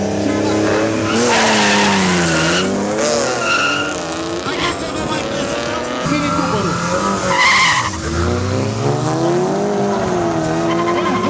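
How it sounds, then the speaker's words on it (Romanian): An Audi race car with an S2 engine revs hard at the start, its engine note rising and falling with tire squeal, loud and close, while people talk. "Vine la start Cosmin cu Audi cu motor S2."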